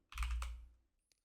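A computer keyboard gives a short burst of close, soft key clatter, followed by a single faint click after a brief pause.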